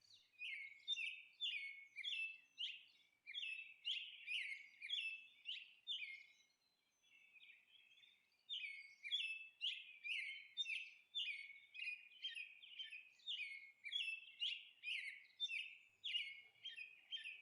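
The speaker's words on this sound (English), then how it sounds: "P for parrot." Rapid repeated bird chirps in steady rhythmic bursts, clear and close, alone with no talk, presented as parrot calls.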